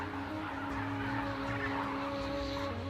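Migratory birds gather at a salt lake in the Algerian desert, their continuous overlapping calls sounding at moderate distance over a steady background wash, without any talking.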